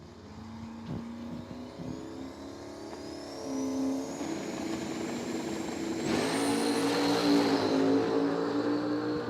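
A Camaro and a Mustang drag racing side by side down a dragway strip, engines building from a steady drone into a rising, high-pitched howl as they accelerate hard, loud and fairly close, with no talk over them.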